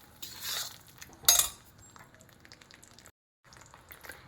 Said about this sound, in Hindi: लगातार चलाते हुए हम और भूनेंगे और थोड़ा आटा और ज़्यादा सुनहरे रंग का हो जाए तब तक इसको हम भूनते रहेंगे।